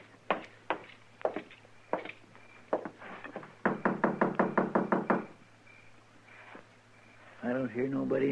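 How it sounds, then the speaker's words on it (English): Several sharp knocks on a wooden door in short bursts, including a fast run of raps, heard close in an old Western radio drama, followed by someone speaking. "I thought I heard somebody knock."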